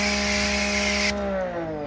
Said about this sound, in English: Here we are coming in with our 40-degree pressure washer tip